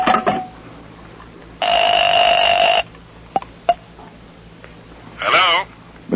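A telephone in an old radio crime drama rings in loud buzzing bursts, one early and a long one midway, with a shorter ring near the end and sparse sounds between.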